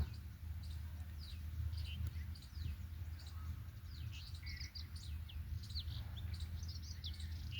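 Small birds chirp repeatedly in quick, irregular bursts, fairly faint over a constant low rumble of background noise.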